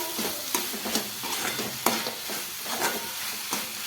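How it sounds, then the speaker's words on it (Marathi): Soaked moong dal is stir-fried in a pan with ridge gourd, crackling sizzle punctuated by repeated scraping strokes of a spatula at an irregular rhythm, close and moderately loud. "हे बघा ही जी मुगाची डाळ भिजवली आहे ना ही मी यामध्ये टाकत आहे आणि चांगलं परतून घेते"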